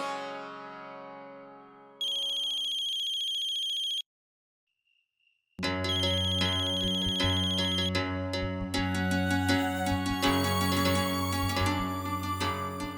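An electronic phone ringtone plays a melodic, multi-tone tune, broken by a high steady beep and a near-silent pause before the tune resumes loudly and carries on.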